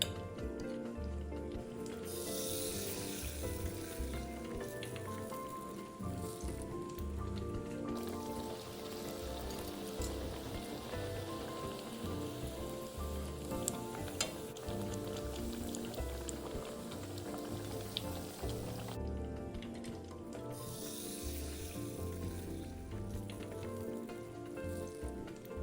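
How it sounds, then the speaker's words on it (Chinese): Batter for a vegetable pancake sizzles in a hot pan, giving a steady, close, crackling hiss that runs without a break for the whole stretch, with faint tonal sound in the background. "滋滋响，很热的。"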